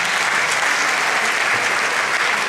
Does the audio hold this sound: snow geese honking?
no